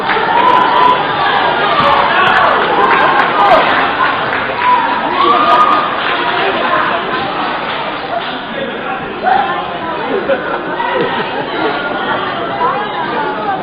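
Spectators at a competition cheer and shout over a constant busy murmur of crowd chatter, with voices rising and falling throughout and people talking nearby.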